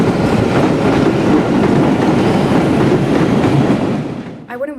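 A Boston Blue Line subway train rumbles loudly and continuously up close, with a dense rattling roar and faint clatter that fades briefly near the end.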